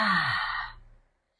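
Breath drawn in and pushed out through the mouth, one close, airy exhalation trailing off over about a second into silence, voiced slightly like a soft sigh.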